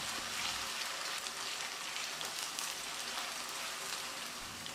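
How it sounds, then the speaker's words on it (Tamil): Potato pieces frying in hot oil, just after mustard seeds, make a dense, even sizzle and crackle, steady and fairly close, with no voices. "நம்ம நறுக்கி வச்சுருந்த உருளைக்கிழங்கை போட்டுக்கலாம். போடும்போது மெதுவாக போடணும், எண்ணெய் தெரிக்கும்."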